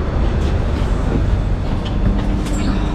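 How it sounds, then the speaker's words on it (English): A passenger train at boarding on a London to Italy rail trip, with a steady, loud rumble and wagon hum filling the whole stretch, no voices over it. "We are boarding the train."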